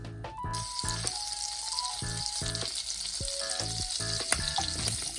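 Onions fry in a pan to caramelize, giving a dense, steady sizzle with occasional tonal clinks and scrapes from the pan running through it.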